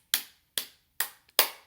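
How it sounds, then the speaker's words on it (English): Four crisp hand claps, close and clear, spaced at an even, deliberate pace with silence in between. "clap your hands"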